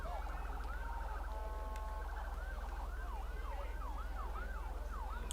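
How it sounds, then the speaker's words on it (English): Emergency vehicle sirens wail near a high school football game on Thanksgiving Day, cycling through yelp and rising-falling wail patterns over a steady low hum, loud and continuous with no talk. "Sirens blaring out there."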